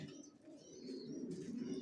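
Racer pigeon squabs coo softly and steadily, their low, throaty burbles overlapping close by with a few faint higher chirps, quiet and without talk.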